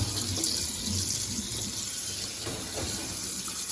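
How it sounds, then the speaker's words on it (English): Running tap water rinses dish soap off a dish in a sink, a steady gushing splash throughout, moderately close and fairly quiet. "I'm gonna rinse all the dish soap off."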